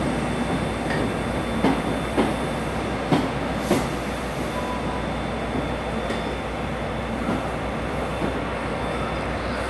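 A class 43 diesel train pulls into Exeter St Davids station, a steady loud rumble with rhythmic wheel clicks and clatter over the rails, no voices.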